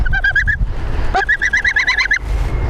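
A goose on a small homestead gives two quick bursts of loud, close, repeated nasal honks separated by a brief pause.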